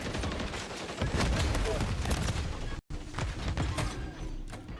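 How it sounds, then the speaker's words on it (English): Remote turret firing in Call of Duty MW3, rapid rattling bursts of automatic gunfire with mechanical clatter, loud and continuous apart from a brief dropout, with some voice underneath. "Remote turret deployed."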